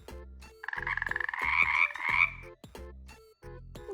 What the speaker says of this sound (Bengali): ব্যাঙ,